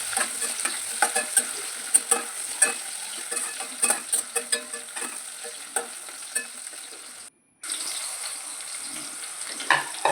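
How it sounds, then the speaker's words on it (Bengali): Carrots, potatoes, beans, capsicum, sweet potato and peas fry in a pan with a steady sizzle and repeated stirring scrapes, loud and close, with a brief dropout near the end. "একে একে গাজর আলু বিনস ক্যাপসিকাম মিষ্টি আলু মটরশুঁটি সব দিয়ে আমি ভেজে নেব মুচমুচে করে"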